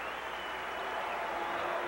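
Basketball arena crowd cheering for Cincinnati player Pete Michael as he waves his arms in front of the bench, a steady dense roar of applause and cheers filling the whole moment without a break.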